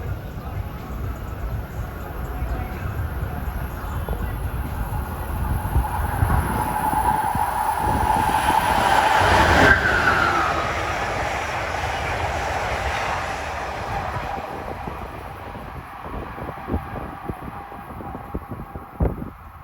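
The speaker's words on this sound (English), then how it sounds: "This train years ago used to be called the Southern Crescent" The Amtrak Crescent, a long-distance passenger train once called the Southern Crescent, rolls past on the Northeast Corridor at Linden, New Jersey, its roar rising and peaking mid-pass before fading away, with rhythmic wheel clatter toward the end.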